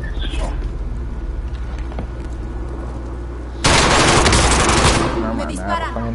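Enemy gunfire in a shooter video game: a loud automatic burst of shots about a second long breaks in over quieter background game noise, with a voice talking around it.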